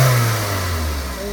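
Car engine with a random multiple cylinder misfire, revved briefly in a parking lot, a loud close roar that eases slightly as it settles.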